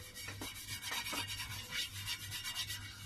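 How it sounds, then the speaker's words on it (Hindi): A pan lid being wiped clean with tissue while making a stove-top pizza gives close, soft scrubbing rubs that rise and fall in an uneven rhythm, with no talking. "इसे आपने टिश्यू से एक दफा साफ कर लेना है"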